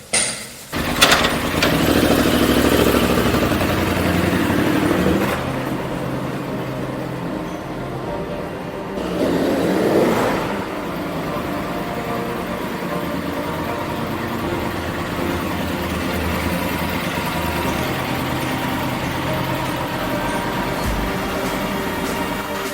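A motorcycle engine runs close by while the bike is being parked in a town square in Evora, Portugal, a steady low rumble with a brief rise in revs partway through, continuing throughout.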